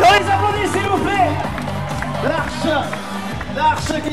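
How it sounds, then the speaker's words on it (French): Crowd clapping and cheering for runners just sent off at the start of a race, a broad steady patter of applause mixed with voices and an announcer talking over it. "On les applaudit s'il vous plaît."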